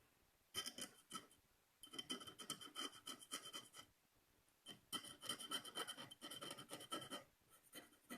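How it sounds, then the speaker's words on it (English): An X-Acto knife scrapes hardened epoxy off the rim of a cup in quiet, close bursts of rasping strokes, several groups of rapid scratches separated by short pauses. "I'm going to scrape and you can see it come up."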